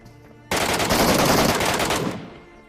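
MK14 rifle gunfire in the PUBG video game: a sustained, loud burst of rapid automatic shots that starts abruptly and runs for about a second and a half before tailing off.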